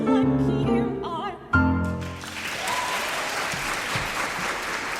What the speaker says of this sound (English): Well-deserved applause there